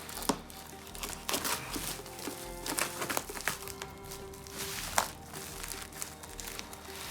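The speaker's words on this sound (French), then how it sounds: "Commencer par enlever le scotch. Enfin, on va juste tout couper." Crinkling and tearing of packing tape being removed and cut from a graphics tablet box, with sharp crackly bursts, close up, no talking.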